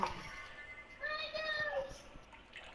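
A cat meows in a few drawn-out, rising calls at moderate distance, heard during casual home chatter while a Madden 25 football game plays; faint background noise runs underneath.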